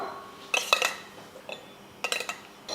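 Soaked puttu flour is dropped into a metal puttu maker, with a few close, bright metallic clinks and taps in short bursts separated by brief quiet.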